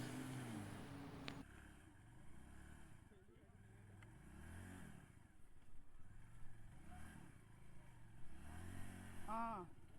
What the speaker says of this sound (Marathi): खूप मटपटे चिखल आहे, त्याच्यामुळे काय टायर पार्टचा ग्रीप देत नाही आहे